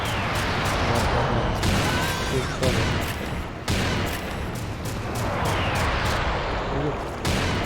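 Heavy, continuous gunfire and booming blasts fill a Serious Sam 2 video game battle, loud and dense from start to finish with barely a pause.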